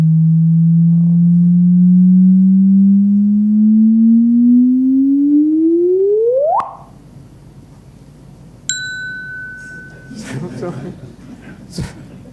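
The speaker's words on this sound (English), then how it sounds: "it was extraordinary how long the chirp signal lasted as a neutron star binary" A sonified gravitational-wave chirp from a neutron star binary merger sounds as a steady low tone that slowly rises, then sweeps sharply upward to an abrupt end, followed by a faint ding and soft room noises.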